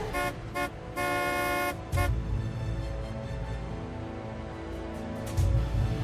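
Several short car horn toots open the scene, then one longer honk, followed by a busy, rumbling mix of background noise.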